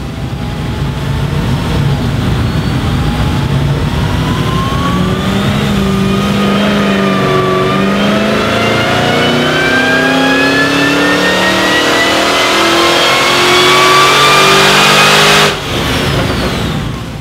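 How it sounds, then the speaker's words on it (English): A V8 fitted with Harrop LSA exhaust headers revs hard in a family wagon, loud and close, its deep exhaust note climbing and falling through repeated sustained pulls before cutting off briefly near the end. "get the exhaust gases out of the engine more efficiently, and the added benefit of a deeper V8 sound"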